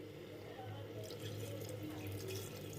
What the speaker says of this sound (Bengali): এবার এটাতে দিয়ে দেবো পরিমাণ মতো জল